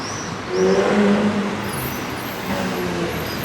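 A Porsche GT3 rolls in with another car following close behind, its engine note swelling as it nears and then holding as a steady road hum and tyre noise.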